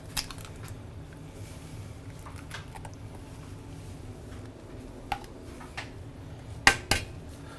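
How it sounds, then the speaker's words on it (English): Egg being cracked into breakfast hash in a pan: a background sizzle with a few scattered knocks, then two sharp taps of shell near the end followed by a soft plop, no talking. "we're going to crack an egg"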